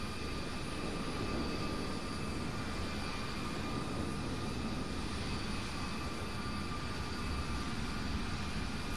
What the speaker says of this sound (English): There's a 787 coming up over runway 31 right on the bottom right screen.